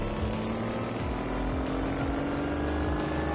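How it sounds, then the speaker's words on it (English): A car engine in a racing video game drones steadily and loudly, a continuous rising engine whine with a rough rumbling texture, no speech over it. "Why has the engine noise changed?"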